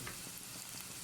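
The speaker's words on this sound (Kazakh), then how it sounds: "Біздің сәбізіміз бен пиязымыз қуралып жатыр." Carrots and onions fry in a pan for a vegetable sauce, giving a steady, dense sizzle throughout this short stretch with no voices.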